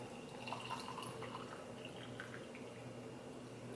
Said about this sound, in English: So let's go ahead and pour in our water.